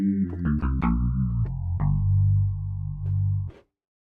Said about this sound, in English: So this is a typical FM synthesis sound